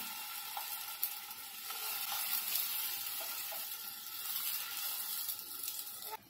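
Hara bhara kebabs frying in a pan, a continuous close, bright sizzle that holds steady with slight swells throughout and a few small pops, no talk over it.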